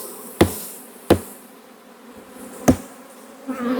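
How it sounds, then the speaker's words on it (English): Honey bees buzz around a hive frame while it gets three sharp taps to knock them off, each knock crisp and close over the steady hum of the swarm. "What we need to do is get the bees off, which I'm gonna do with a quick tap or two here."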